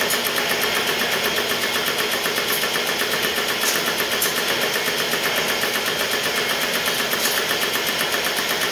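A 2000-horsepower twin-turbo 632 cubic-inch big-block Chevy running on E85 holds a loud, steady, close rumble throughout with a harsh metallic edge, a couple of brief sharper pops rising out of it.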